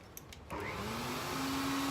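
An old forge air blower, idle for over ten years, starts up and runs with a steady broadband whoosh and a low whine that rises in pitch, close and loud, with no talking.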